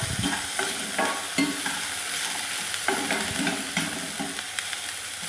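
Onion, ginger-garlic paste and green chilies sizzle steadily in a pan, with soft scraping stirs recurring at an uneven rhythm throughout.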